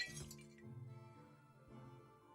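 Glass block shattering in Minecraft, a bright clinking crack at the start followed by a few scattered tinkles over soft background game sounds, with no talking.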